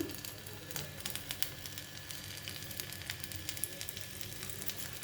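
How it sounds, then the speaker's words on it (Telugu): A piece of ivy gourd fries in hot oil, giving a faint, steady sizzle with scattered small pops and crackles, heard alone without any talk. "ఒకటి వేసి చూసుకుందామండి నూనె వేడెక్కిందో లేదో."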